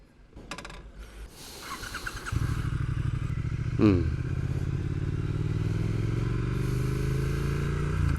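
A Triumph Speed Twin fitted with Öhlins STX 36 shocks is started and ridden, a few clicks and clatters giving way to a loud, steady engine rumble that rises and settles close to the microphone, with some talking mixed in.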